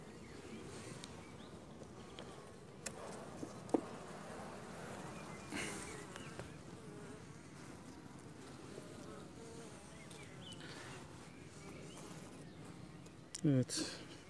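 Honeybees buzzing around a weak hive during an inspection, a low continuous hum throughout with occasional handling knocks and someone talking over it.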